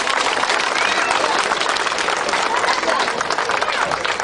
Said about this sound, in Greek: Ας χειροκροτήσουμε λοιπόν.